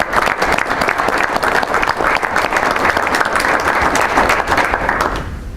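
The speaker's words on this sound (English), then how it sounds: "I'd like to give them a round of applause for doing that." A large crowd at an urban violence meeting applauds steadily for several seconds, dense clapping that fades slightly at the very end.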